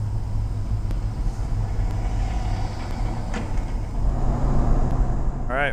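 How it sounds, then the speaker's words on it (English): Tour buses roll past at a state park fort near a ferry landing, a steady low engine rumble of heavy road traffic close by, with a brief rising whine near the end. "There's a couple tour buses."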